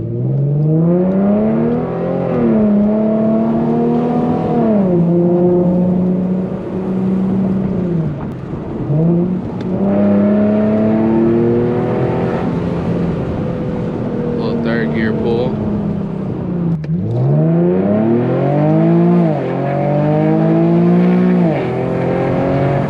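An Infiniti G37 driven in manual mode with no traction makes repeated hard pulls, its engine revving up loudly and climbing through several gear changes, with a brief lull midway and voices talking over it.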